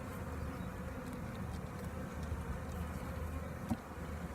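Honey bees buzz in and around a hive, a soft, steady, dense hum of many wings with no voices, holding an even level throughout the few seconds.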